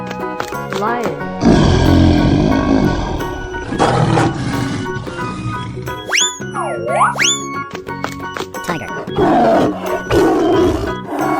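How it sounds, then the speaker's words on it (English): In a 3D animal slide video game, a lion roars loudly in a couple of bursts amid game effects, a boing-like sliding tone and excited voices talking over it. "Lion."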